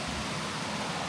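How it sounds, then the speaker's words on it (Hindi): River water flows with small waves near a remote village in Kashmir, Pakistan, producing a steady, even rushing wash that holds constant throughout. "तो और दरिया की जो आवाज़ आ रही है ना,"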